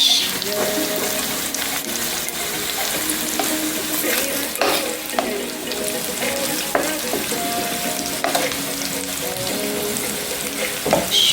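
Pork, celery and carrot stir-fry in a wok for pork fried rice, a loud close sizzle broken by repeated scraping and tossing strokes of the spatula, with clattering knocks at intervals and no talking.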